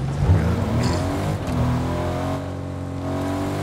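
A car engine in the Fortnite video game revs and drones continuously, loud and close, with the pitch climbing as it accelerates and no talking over it.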